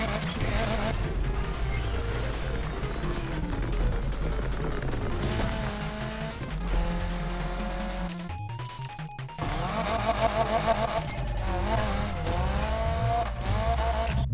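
A car engine in the racing game Need for Speed Unbound revs hard and loud, its pitch climbing and dropping through repeated gear changes, with a brief dip and some squealing tire noise.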